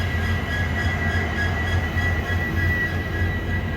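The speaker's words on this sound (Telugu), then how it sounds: "మన ట్రైన్ చూడండి ఎంత పెద్దగా ఉందో." Goa to Secunderabad express train 17040 running near Madgaon, with a steady loud rumble of wheels and carriages and a faint high squeal throughout, no voices.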